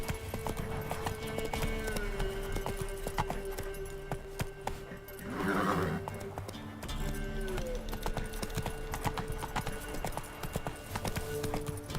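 Roach, a horse in The Witcher 3, gallops with rapid rhythmic clip-clop hoofbeats throughout, broken midway by a short whinny, all fairly loud and close.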